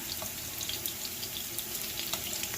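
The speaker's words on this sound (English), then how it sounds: "once I'm done frying my pumpkin" Steady hissing sizzle of pumpkin frying in hot oil, with scattered light crackles and pops.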